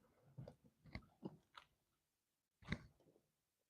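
Someone chewing and crunching on British candy, including a fruit salad flavour sweet, with bursts of close, moist mastication clustered in the first half and again near the end, separated by a short pause.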